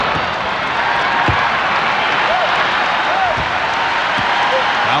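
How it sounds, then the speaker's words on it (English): A basketball arena crowd at the 1993 NBA Finals, Bulls versus Suns, roars and applauds in a steady, dense wash of noise, with a commentator's voice partly audible beneath it and a few bounces or thuds. "Now the crowd trying to get the Suns into it early."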